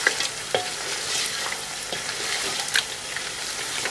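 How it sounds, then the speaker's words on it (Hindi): Meat chops sizzle steadily in a hot karahi on high heat as they are stirred, with a few sharper scrapes and clinks from the spoon against the pan, for a quail karahi dish. "यहीं पर आप ऐड करेंगे जो आपका मीट है यानी कि चॉप्स, इसको हल्का सा मिक्स कर लेते हैं"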